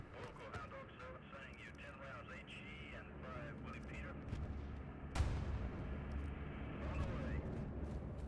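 Video game bombing run artillery explosions thud heavily, one sharp close blast midway followed by rumbling, under steady voices talking throughout.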